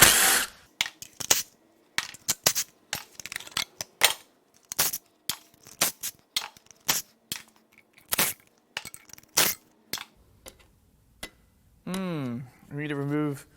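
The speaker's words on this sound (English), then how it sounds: "First, we'll start by removing the heat shield off the turbo" Hand tools on a Chevy Cruze/Sonic 1.4 turbo engine as the turbo heat shield comes off, sharp metallic clicks and clanks in irregular bursts, ending with a short whirring tool sound and talk in between.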